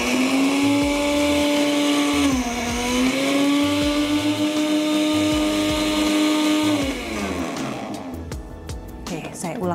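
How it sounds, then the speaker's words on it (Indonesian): An IDEALIFE IL-220 blender grinding dry sesame seeds gives a loud, steady motor whine that dips briefly, then holds before winding down and stopping near the end. "Nggak semua blender ya, teman-teman bisa menggiling yang kering, bahan kering seperti ini ya"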